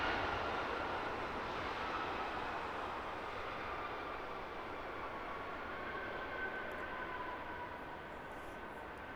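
Heavy jet airliners descend onto the northern runway at Heathrow Airport, heard as a faint, distant, steady broadband roar that slowly eases off across the clip, with no speech.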